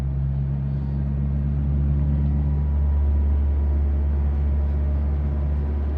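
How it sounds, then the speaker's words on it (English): A Skoda driving along a road across Jutland, heard from inside as a steady low engine drone and road rumble, constant and fairly loud, no talk. "It's a very nice day to drive a car like this."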